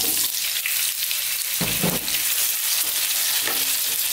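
Bite-sized potato pieces fry in a pan over above-medium heat, giving a steady loud sizzle throughout with a few brief clatters as they are stirred.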